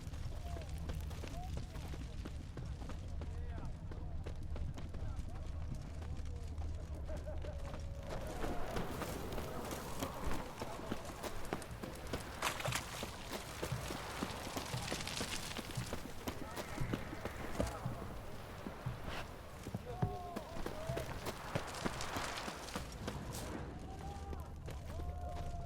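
Horse hooves clip-clop in the video game The Witcher 3: Hearts of Stone, a steady rhythmic trot under a dense bed of game ambience and music, with characters' voices talking over it.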